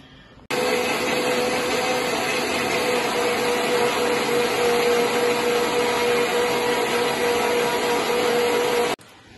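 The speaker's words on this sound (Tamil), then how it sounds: "இந்த மிக்சியில போட்டு நான் அரைச்சிருங்க." A kitchen mixer grinder grinding soaked raw rice, starting abruptly with a loud, steady motor whine and grinding roar that holds for about eight seconds, then cuts off sharply, with no voices.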